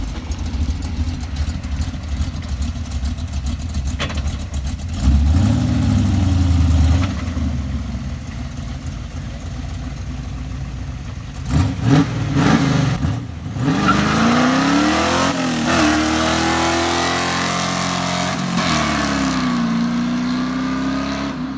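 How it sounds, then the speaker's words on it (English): A 1974 Z28 with a 383 V8 on open headers revs loudly and close by, the rumble rising and falling in repeated bursts, with sharp climbing pulls partway through and a sustained high-revving run toward the end. "Open headers, she's loud."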